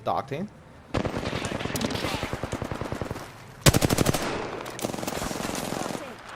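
Automatic gunfire from an Apex Legends match, with sustained rapid bursts of shots, a brief pause, then a louder close burst followed by more rattling fire, all fairly loud.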